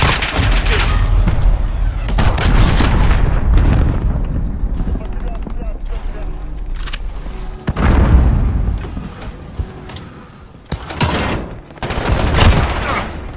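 Heavy cruise missile explosions in the Modern Warfare Beta shooter rumble and boom one after another, with loud blasts, dense gunfire and game voice callouts over the battle.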